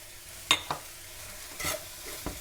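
Vegetables including cabbage, carrot and tomato saute in a pan for a bonda filling, with a faint frying hiss and a few quick spoon scrapes and taps, close but quiet, with no talking.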